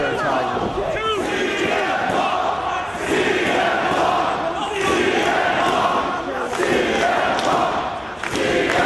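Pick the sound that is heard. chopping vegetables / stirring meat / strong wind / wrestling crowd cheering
wrestling crowd cheering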